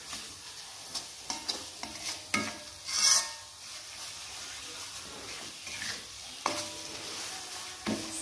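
Spice paste with galangal and bay leaves is stir-fried in a pan for sayur lodeh, a soft sizzle under scattered scraping stirs and clinks of a utensil against the pan.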